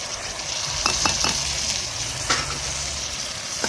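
Tomatoes hitting onions already frying in a pan send up a steady, close sizzle, with a few scraping stirs of a spoon across the pan.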